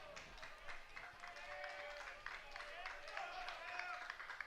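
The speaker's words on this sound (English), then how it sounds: "Crowd clapping along." Crowd at an Illinois State vs Purdue college baseball game clapping along in a steady rhythm, a continuous wash of hand claps and crowd noise beneath ongoing play-by-play talk.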